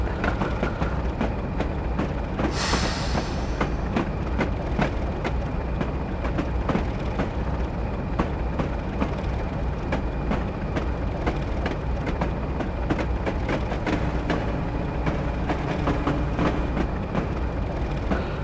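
A train in a train simulator game runs past with a continuous rumbling roll and rapid rhythmic clicking of wheels over rail joints, a brief loud hiss near the start, steady and close throughout without talk.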